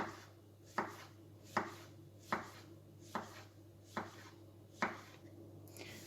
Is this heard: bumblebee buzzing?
no